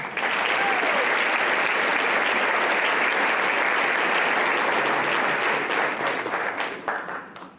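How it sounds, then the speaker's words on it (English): At a Teacher of the Year celebration, an audience gives the planning committee a sustained round of applause, thick and even clapping that holds steady for several seconds before trailing off, with faint voices underneath. "Let's give the planning committee a round of applause."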